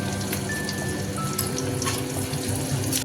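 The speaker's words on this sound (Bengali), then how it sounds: "দিলাম মশলার বাটি দেওয়া জলটা" Water from a spice bowl poured into a pan of dry chili chicken with green, yellow and red bell peppers, giving a steady, continuous running splash for about three seconds with no talk.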